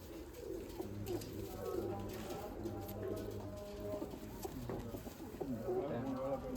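Pigeons coo in soft, repeated low phrases at a loft, several birds overlapping at close range, with occasional rustling and a voice talking faintly beneath.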